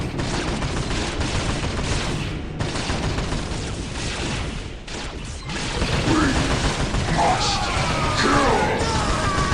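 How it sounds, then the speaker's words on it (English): Gunfire in a battle from the video game Warhammer 40k Dark Crusade, a dense continuous barrage of shots and clatter mixed with shouting, loud and steady throughout. "We are taking fire!"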